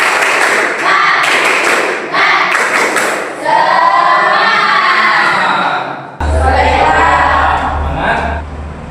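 Students in a classroom doing a rhythmic spirit clap, with bursts of group clapping and thumps mixed with children's shouts and chanting voices, loud and close, cutting off briefly before starting again.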